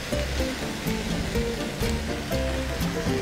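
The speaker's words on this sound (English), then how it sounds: "Next we're going to take about 350 ml of water and we're going to add our chicken stock." Water, about 350 ml, poured into a pot to make chicken stock in a home kitchen, a steady splashing rush that runs through the whole moment without talk.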